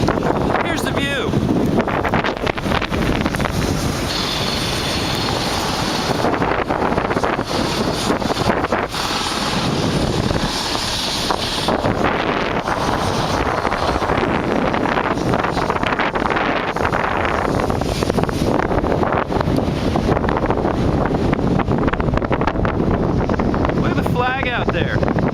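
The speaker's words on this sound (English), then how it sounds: "the wind's probably blowing about 40 miles an hour, as you can tell by the way my hair is kind of going here" Strong wind, around 40 miles an hour, buffets the microphone at the top of a tower crane, a loud continuous roar with gusty surges throughout, and a voice talks faintly beneath it.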